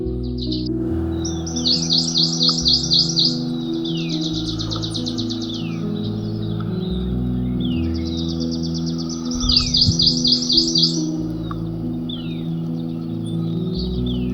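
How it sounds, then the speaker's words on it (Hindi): Birds chirp and trill at sunrise in Kalpa, a Himalayan valley in Himachal Pradesh, in bright repeated bursts, rising in two clear spells over a steady low background hum, with no voices. "और अब जरा ये चिड़ियों की आवाजें सुने।"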